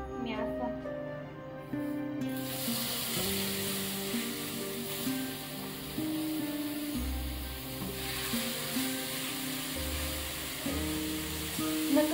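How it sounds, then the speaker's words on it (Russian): Meat sizzles and fries in an oiled grill pan, a steady close crackling hiss that runs continuously, with faint low background tones beneath. "И жарим мясо"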